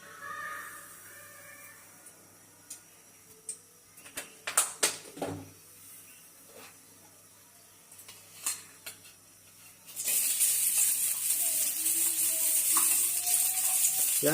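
Oil being added to a pan for cooking noodles, scattered utensil knocks and clatter at first, then a steady bright sizzle of hot oil that sets in abruptly and continues, close and moderately loud.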